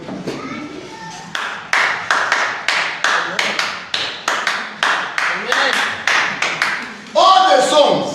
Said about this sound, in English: When you clap like this, you make the place holy.